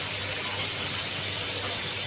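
A pressure cooker on the stove hisses with a steady, continuous jet of steam as peas boil inside, a bright broadband rush held at an even level throughout with no talk over it.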